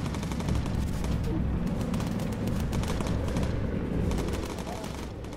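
Missile launch in the WWII bomber game Bomber Crew: a loud, dense roar of gunfire-like bursts and rumbling blasts fills the whole stretch without letup.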